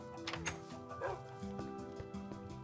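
A dog barks in short yips within the blocky world of the Minecraft video game, the calls set against a steady layer of game music.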